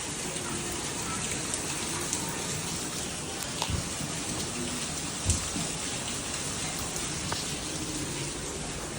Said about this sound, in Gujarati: વરસાદ ફૂલ ભયંકર આવે છે.